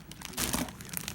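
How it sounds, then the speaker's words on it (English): Plastic packaging crinkles and crunches in a quick, close burst of rustling as items are unpacked, the sound swelling in the middle and staying near and fairly quiet throughout. "I'm taking everything out of the packaging and I'm putting it in clear plastic bags"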